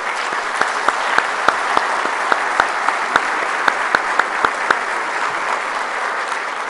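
Audience applauding graduates at a university graduation ceremony, a steady wash of clapping with sharper individual claps standing out, continuous and fairly loud throughout.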